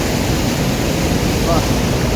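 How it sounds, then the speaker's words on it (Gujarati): A waterfall in the Dang district of Gujarat gives off a loud, steady, broadband roar of rushing water that fills the whole stretch without letup. "એટલો બધો ધોધ આવે જો."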